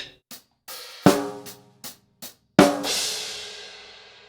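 Drum kit groove played up close: a handful of sharp snare and cymbal hits with gaps between, ending on a loud crash cymbal that rings out and decays; no talking.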